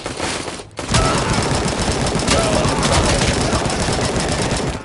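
Gunfire in the video game RoboCop: Rogue City comes as a dense, loud burst of rapid shots. It starts after a short dip and keeps rattling continuously to the end.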